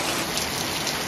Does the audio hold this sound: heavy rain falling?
yes